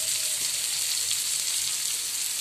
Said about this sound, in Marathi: आता ह्या साईडनेही 5 मिनिटं फ्राय करून घ्यायचे.